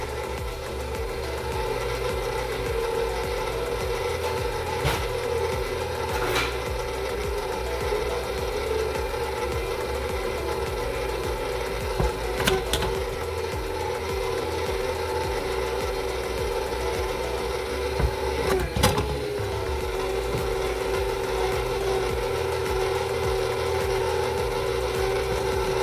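An electric mixer works bread dough with vegetable oil and flour, giving a steady, close motor whir with a constant hum and a few faint clicks, running alone without talk.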